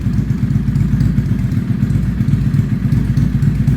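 A cold 2000 Suzuki VZ800 Marauder V-twin with freshly rebuilt carburetors starts without choke on a chilly morning and idles with a loud, steady, close-up low thumping throb and some mechanical clatter.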